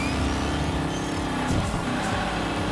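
Game engine roar of a toy race car boosting in Hot Wheels Unleashed, a steady loud whine with layered music-like tones that shifts pitch near the midpoint, continuous throughout with no talk.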